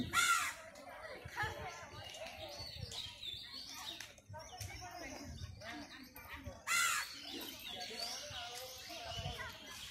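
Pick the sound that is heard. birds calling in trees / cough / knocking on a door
birds calling in trees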